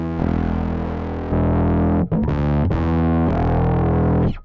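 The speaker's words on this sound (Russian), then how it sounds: "Как вы слышите, они звучат достаточно сильно по-разному, то есть очень-очень серьезно отличаются по тембру два эти типа дисторшена" Bass guitar played through an MXR distortion pedal, thick, buzzing sustained notes with a few changes of pitch, loud and close with no talking.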